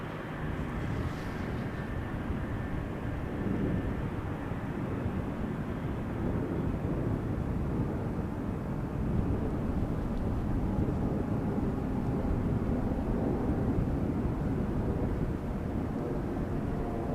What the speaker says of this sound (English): the SkyTeam livery 737 is also taxiing to the threshold, as will this 777